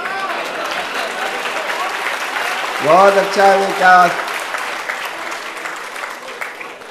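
Audience applause fills a poetry recitation at a mushaira in Kuwait, a steady crowd clapping throughout with a voice speaking briefly over it in the middle.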